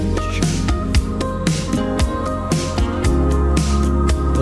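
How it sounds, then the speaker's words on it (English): Electronic piano plays in a song, with repeated struck chords over a steady beat and bass in a full, loud mix. "Electronic piano."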